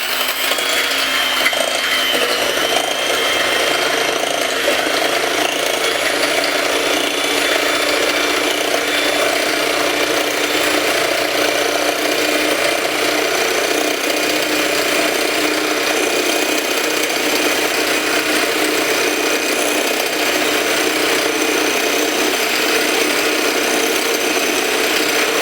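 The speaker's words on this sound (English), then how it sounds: "Now I have the egg whites and I'm going to be mixing." An electric mixer whips egg whites for a tres leches cake, a steady, loud motor whine with a rattling buzz that runs unbroken for the whole stretch with no talking.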